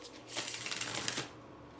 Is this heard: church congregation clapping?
no